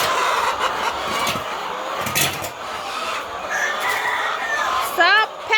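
Chickens in a flooded poultry pen in Ghana cluck and squawk close by in repeated bursts, with pecking and shuffling noise and people talking nearby.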